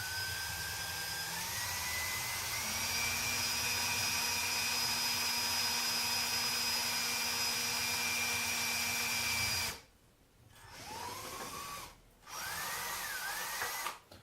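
A power drill whines steadily as it bores through an orchid saucer planter, running continuously for about ten seconds before stopping, followed by two brief restarting bursts of the motor.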